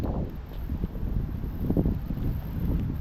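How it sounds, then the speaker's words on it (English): Wind gusting over the microphone during an outdoor walk in Maine in chilly weather, a low rumbling buffet that swells and fades throughout. "I don't like it when it's windy and breezy."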